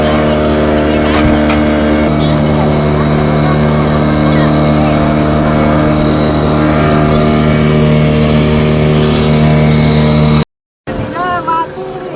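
A boat's engine drones loud and steady during a boat ride through the Pichavaram mangrove forest, holding an even pitch before the sound cuts out abruptly near the end.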